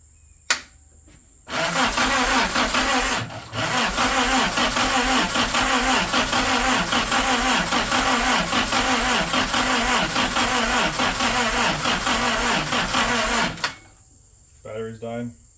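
A 1942 Jeep engine cranks on a dying battery, a loud, steady, rhythmic churning that runs for about twelve seconds before stopping abruptly, with brief clicks before it starts and a short sputter after.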